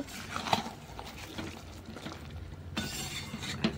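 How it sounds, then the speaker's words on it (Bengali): Spice paste (masala) being stirred and fried in a pan, with steady scraping and clinking of a utensil against the metal over a continuous sizzle, close and moderately loud, no talking. "চলো এখন সুন্দর করে মশলাগুলো মিশিয়ে কষিয়ে নেব"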